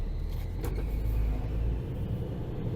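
A farm vehicle hauling wheat drives onto a grain elevator scale, giving a steady low engine rumble with a faint higher whine throughout and no talking.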